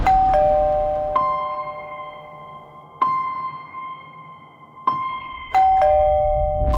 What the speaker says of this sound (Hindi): जिसने उस रात जयदेव प्रांजपे के घर की घंटी बजाई थी